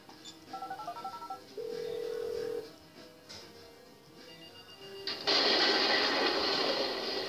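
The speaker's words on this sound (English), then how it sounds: "I'm making the call." A phone dials a call in GTA V: a quick run of short dial tones, a longer steady beep, then a burst of broadband noise, with no talking.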